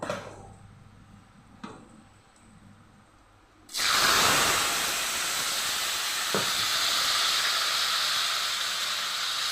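Mung dal lentils tipped into hot oil already holding fried bay leaf and dried red chilli. A quiet pan suddenly bursts into a loud, steady hiss and sizzle that carries on to the end, with one faint clink along the way.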